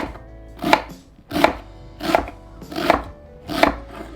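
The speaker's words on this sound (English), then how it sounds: "You got the onion diced." A knife dicing an onion on a cutting board for lentil soup, six crisp, evenly spaced chops close by with no talking.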